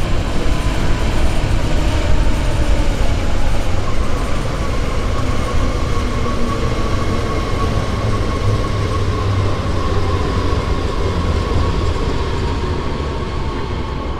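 A BR 111 electric locomotive runs along the main line toward Duisburg Hbf in foggy conditions in Train Sim World 4, giving a loud, steady rumble and rolling rail noise that stays constant throughout with no talking.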